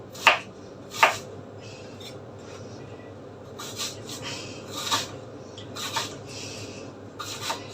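A knife chops onions on a board for dolma, a few sharp crisp strikes spaced apart over faint background noise, close and distinct.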